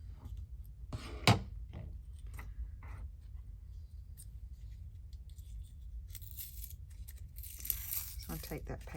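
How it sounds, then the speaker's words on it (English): Backing paper peeled off a homemade adhesive craft stamp, a brief close tearing rip followed by crinkling and handling noises under a faint background. "I'll take that paper off because it's going to get in my way."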